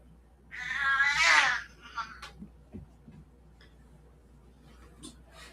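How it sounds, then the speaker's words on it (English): A single drawn-out, harsh cat meow up close, followed by a few soft clicks and faint rustling in a quiet room. "That meow is her normal voice."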